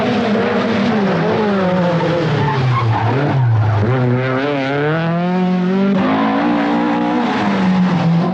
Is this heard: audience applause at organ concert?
no